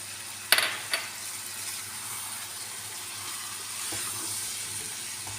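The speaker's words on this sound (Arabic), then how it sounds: "خليهم يتقلاو مليح" Tomatoes and a spoonful of flour fry in a pan for an olive stew, giving a steady, soft sizzling hiss after a couple of sharp utensil clatters at the start, close up with no talking.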